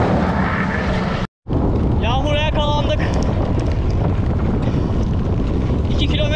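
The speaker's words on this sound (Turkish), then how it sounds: "Böyle gitmez, rüzgar da başladı." Strong wind roars and buffets a microphone during a bicycle tour on the road between Aksaray and Nevşehir, loud and continuous with a brief dropout, while a voice speaks partway through.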